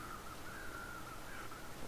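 Crows caw faintly and far off in the snowy wilderness of The Long Dark, a thin, steady call over quiet ambient wind.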